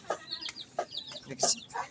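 Several labuyo (Philippine junglefowl) chickens clucking in short, scattered bursts, fairly close, with a brief higher squawk near the end.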